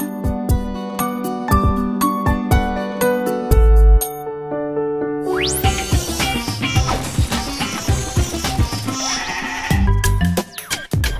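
Ewes bleating on a sheep farm whose milk goes into sheep's-milk cheese, calls mixed with bell-like tinkling and denser layered bleats in the second half, loud and close with no talk.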